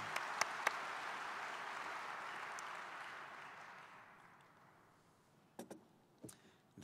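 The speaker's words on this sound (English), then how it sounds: "Please give them a round of applause" Applause for a panel of speakers at a Realtors Association of Edmonton 2013 forecast event rolls through the room and gradually fades out, leaving near-quiet broken by a few sharp clicks and knocks.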